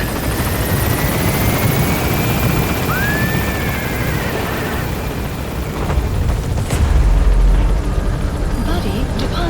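A helicopter lifts off in the video game Metal Gear Solid V, a loud, continuous rotor roar with a rising whine. Near the end a heavy low rumble swells.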